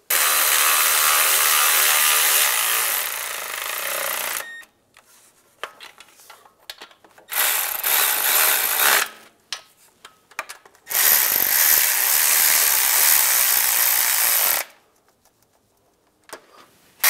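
Ratchet snugging nuts onto studs during rear main seal replacement on a 2007-2013 Chevy Silverado, heard as several long loud bursts of fast clicking separated by quiet pauses and small handling noises, close up with no voices.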